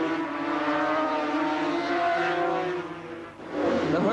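A pack of 1977 superbike motorcycles streams round the track, engines howling loudly in layered, overlapping whines that dip briefly before the next bike roars past.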